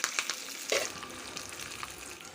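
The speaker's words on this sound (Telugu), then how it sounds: "ఇందులోకే కొంచెము కరివేపాకు, ఎండుమిర్చి వేసుకుంటున్నాను." Curry leaves and dried red chillies hit hot oil in a tempering for tomato dal, with a sharp burst of crackling sizzle that settles into a steady close fry, with occasional stirring.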